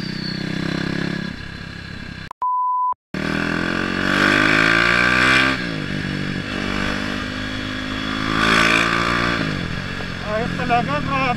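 A KTM RC390 sport motorcycle's engine revs up in rising, rasping sweeps, loud and close, with a short electronic beep cutting in early on and voices talking over it.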